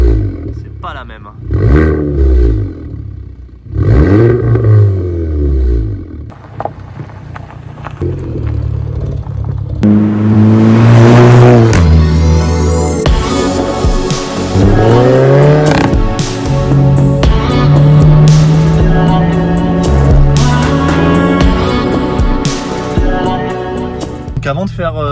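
VW Golf 7 GTI Performance engine revving in sport mode, with loud repeated rising and falling revs that build to a sustained roar, heard close and mostly alone.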